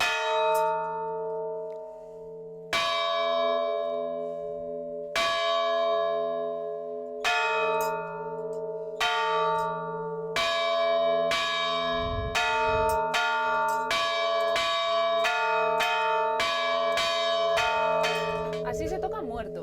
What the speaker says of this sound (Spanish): se avisaba así a través de las campanas